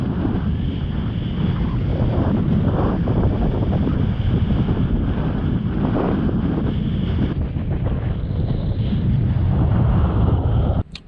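Strong mountain wind roars across the microphone in Snowdonia in winter, a loud, constant buffeting rumble that carries on unbroken, then cuts away abruptly at the end.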